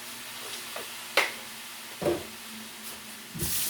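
Vegetable stock goes into a sizzling pan, giving a faint steady sizzle broken by a few brief clatters and stirring scrapes spaced through a few seconds.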